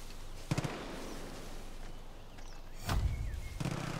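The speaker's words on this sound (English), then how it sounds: "That's why I'm hearing gunfire." Distant gunfire from a shooting range in Far Cry New Dawn sounds as a quick burst of cracks, then a heavier rumbling volley a couple of seconds later, set against steady game ambience.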